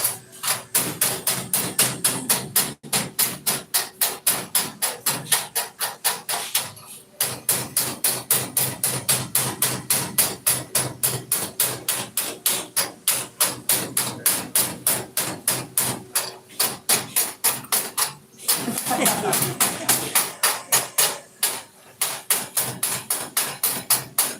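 Rapid metallic hammer taps chipping slag from a fillet weld on a flat-position tee joint, dense rhythmic strikes in bursts with short gaps, close and loud with no talk.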